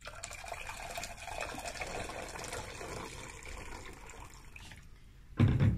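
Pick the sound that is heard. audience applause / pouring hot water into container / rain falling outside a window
pouring hot water into container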